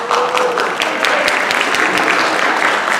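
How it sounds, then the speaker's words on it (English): Parents at a high school senior-class information meeting applaud themselves, a close, fairly loud patter of many hands with a few distinct sharp claps, steady throughout. "So give yourself a round of applause."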